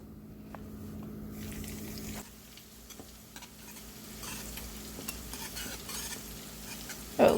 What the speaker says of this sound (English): Time for my next batch.